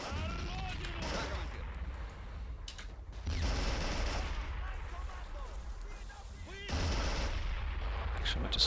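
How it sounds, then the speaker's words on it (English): Mortar shelling in the Men of War game, with heavy artillery-like booms and gunfire rumbling continuously and loudly, swelling in bursts at intervals under a game soundtrack with a voice talking. "they're really shelling everywhere with that mortar"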